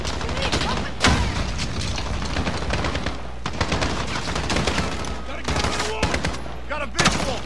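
Video-game gunfire in Call of Duty Modern Warfare: rapid bursts of automatic fire and sharp single shots, some booming, loud and close, with voices talking in between.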